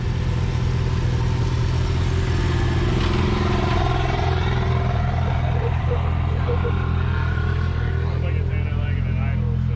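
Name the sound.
Maverick R and Pro R side-by-side engine revving to warm up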